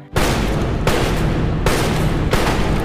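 Gunfire from a gangster film, sounding as several loud, dense broadband bursts in close succession, each blast filling the space with a sustained roar and no audible talk.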